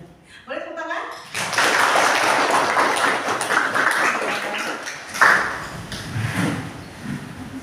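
A classroom of students breaks into broad, sustained applause during a geometric sequence lesson, the dense clapping holding steady for several seconds before a louder burst and a tapering finish.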